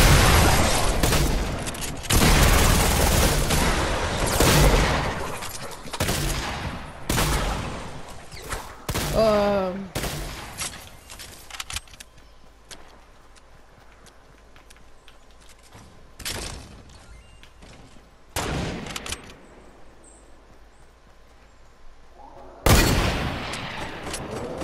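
Heavy assault rifle fire in Fortnite, loud bursts of rapid shots in irregular clusters with sharp impacts and quieter gaps between volleys, under occasional game noise.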